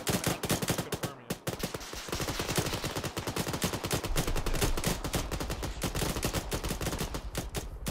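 Dense, rapid automatic gunfire in a Falklands War combat video game, loud and continuous bursts with short gaps, close and relentless for several seconds.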